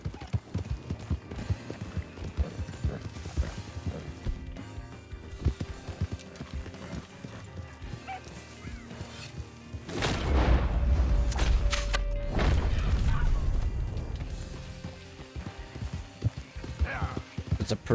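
Horse hooves in the video game Red Dead Redemption 2, a steady clip-clop rhythm of hoofbeats with a heavier rumbling stretch midway, accompanied by soft in-game ambience.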